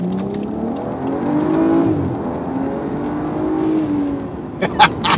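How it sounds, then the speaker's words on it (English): A tuned BMW 535i M Sport's engine drones loud and close from inside the cabin, rising and falling under acceleration, with a few sharp hissy bursts near the end as the turbo blow-off valve vents. "you really had to push the car to get that blow-off valve to make noise"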